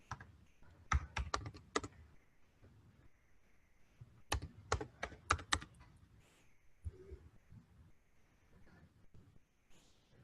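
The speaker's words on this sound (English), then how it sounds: "I'm going to type it here" A computer keyboard typed on in two quick bursts of crisp clicking keystrokes, separated by a short pause, close and fairly quiet.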